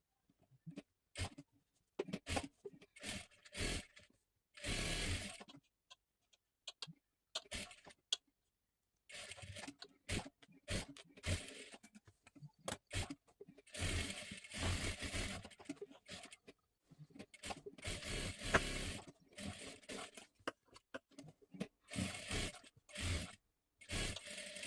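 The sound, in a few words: sewing machine stitching a child's blouse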